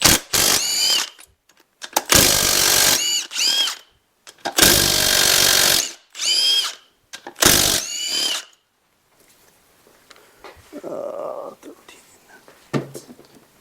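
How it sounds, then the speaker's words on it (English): A power tool loosening main cap bolts on a 5.3L LT (L84) engine during a teardown: several loud bursts of a few seconds each, separated by short pauses, with rising and falling whine, then quieter handling noises afterward. "All right, I'm going to pull one of these main caps off,"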